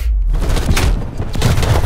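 Rapid, loud XM4 rifle fire in Black Ops Cold War crackles in a dense burst of close shots lasting about two seconds, with no talking.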